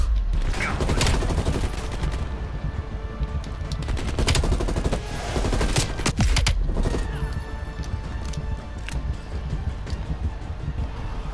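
Gunfire from Call of Duty: Black Ops Cold War: rapid bursts and single loud shots crack repeatedly over a dense battle din, with a voice speaking now and then.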